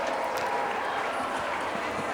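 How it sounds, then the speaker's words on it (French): Around 850 religious sisters applaud and cheer as Pope Francis enters their audience in a large hall, a steady, slightly distant wash of clapping and crowd noise with no clear pauses. "sous les acclamations de ces quelques 850 religieuses"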